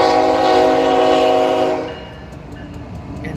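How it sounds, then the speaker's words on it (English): A train passes with a loud, sustained horn blast for about two seconds, then the horn cuts off and the rolling rumble of rail cars carries on more quietly. "let's check out the train."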